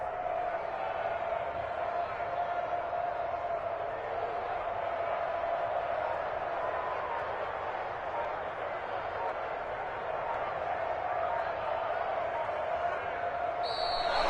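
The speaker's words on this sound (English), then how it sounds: "And the home crowd applauding." A home crowd applauds in a PS4 basketball video game, producing a continuous wash of clapping and crowd noise, moderately loud and sustained throughout.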